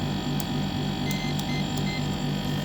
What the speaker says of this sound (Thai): ทุกคนคงได้ยินเสียงคอมเนาะรัน